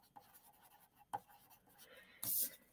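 A pencil writes a name on the back of a sheet of paper, giving close, scratchy strokes in short bursts with small pauses and one louder scrape near the end.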